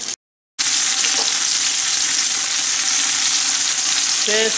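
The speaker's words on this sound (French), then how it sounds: "Alors je fais saisir mes morceaux de viande" Meat pieces for coq au vin searing in hot oil and butter, a loud steady close sizzle that cuts out briefly near the start, with faint stirring scrapes toward the end.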